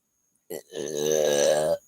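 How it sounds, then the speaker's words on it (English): One long, loud, croaky burp from a nearby person, preceded by a short gulping sound, with no speech. "I've had the burps"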